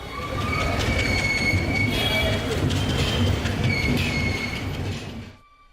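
A train moves through the railway station at Belgaum, its wheels squealing and screeching over a continuous rumble and clatter of railcars, loud and close before fading away at the end.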